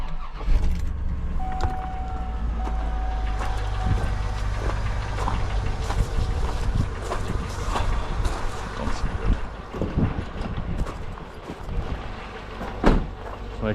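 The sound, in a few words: big block V8 engine running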